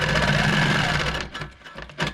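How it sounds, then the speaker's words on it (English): A sewing machine with a ditch foot stitches along a quilting ruler, running with a steady loud whir that then slows into a few separate stitches, with light talk faintly underneath. "I'm going to stitch till I can see the back end of my foot even with my stitching, and I'm going to stitch down"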